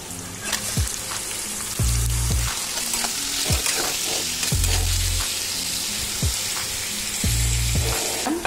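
Marinated chicken fries in a cooked paste of Kashmiri chilli powder, red chilli powder and water, a loud, continuous sizzle with repeated stirring and scraping strokes against the pan, close up.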